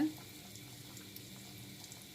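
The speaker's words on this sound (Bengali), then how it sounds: "এখন ডিম আর বিস্কিটে গুঁড়া মাখানোটা ভাজা হচ্ছে" Noodle cutlets coated in egg and biscuit crumbs frying in oil, a steady soft sizzle and crackle running evenly throughout at low level, with no voice.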